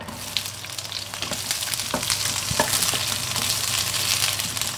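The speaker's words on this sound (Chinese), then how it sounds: "炒洋葱" Onions stir-fry in a little oil in a wok with a loud, close, continuous sizzle, broken by a few sharp spatula scrapes and knocks against the metal.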